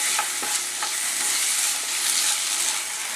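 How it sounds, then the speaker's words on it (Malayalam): Potatoes fry with coriander powder in a pan for an egg kurma, producing a loud, even sizzle throughout with faint scraping as the mixture is stirred. "ഇത് നന്നായിട്ടൊന്ന് ഇളക്കി കൊടുക്കുക"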